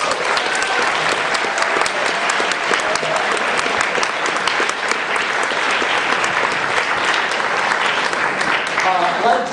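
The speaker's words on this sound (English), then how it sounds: "So please just give the contestants another round of applause." Applause for the Maslab 2008 robotics competition contestants from an audience in a hall. Dense, steady clapping continues for nearly ten seconds at an even level and thins slightly at the end.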